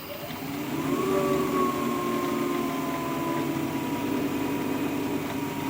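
A wood lathe spins a workpiece for turned wood flowers after being slowed to about 1,000 RPM, giving a steady mechanical hum with a faint whine that holds evenly throughout.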